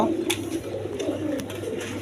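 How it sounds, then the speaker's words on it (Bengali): A pair of Maltese pigeons coo close by, low throaty rolling calls repeating over a steady background, with a few sharp clicks in between. "এখানে এক পেয়ার মাল্টেজ কবুতর আছে"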